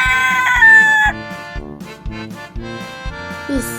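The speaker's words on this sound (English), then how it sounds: "This is a rooster," A rooster lets out one loud, close crow at the start, followed by softer clucking-like calls, all set over a bouncy, rhythmic backing music track.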